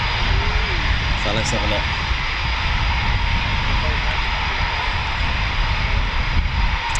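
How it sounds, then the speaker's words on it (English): Eurofighter Typhoon FGR4 jet engines run steadily at RAF Coningsby in the evening, a loud, continuous roar and whine heard at a distance, with someone talking briefly over it. "There are more Typhoons running at the minute from the main ASP from 29 Squadron."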